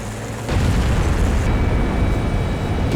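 A World of Tanks tank gun fires once with a heavy, booming blast that rolls into a sustained rumbling roar, loud and close.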